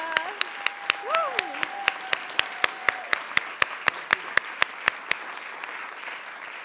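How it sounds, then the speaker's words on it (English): Forum audience at the Humphrey School of Public Affairs in Minneapolis, applauding after a mayoral candidate discussion: steady, fairly close clapping from a group that runs the whole time, with a brief spoken voice early on. "And with that, oh yes, clap."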